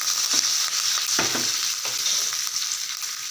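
Chana dal, mustard seeds and curry leaves fry in hot oil with a dense, steady sizzle and crackle, broken by a few soft stirring scrapes and no talking.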